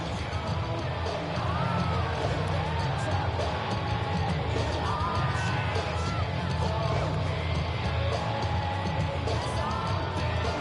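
A dense stadium crowd roars steadily throughout a Madden football video game, a loud continuous wash of cheering and yelling with faint voices rising out of it.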